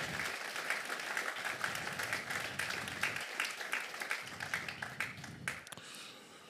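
A church congregation applauds and cheers for Jesus, steady rhythmic clapping from a crowd heard at moderate distance, with faint voices mixed in, tapering at the end.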